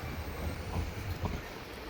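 An express train running from Mayiladuthurai to Rameswaram gives a steady, loud, close rumble of wheels on rails, with faint rhythmic clacks over the continuous roar.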